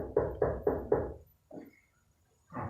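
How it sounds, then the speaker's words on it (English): Four firm, evenly spaced knocks on a door, close and loud, followed after a pause by a couple of softer thuds and a short muffled voice. "go ahead if you need to answer the door."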